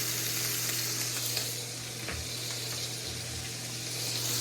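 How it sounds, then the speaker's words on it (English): Butter and garlic sizzling in a frying pan while meat sears, a steady, fairly loud hiss with a low hum and a few soft stirring bumps, no voices. "I'm going to throw the butter in"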